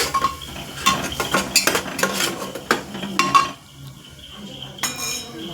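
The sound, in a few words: stirring and sautéing masala in a pan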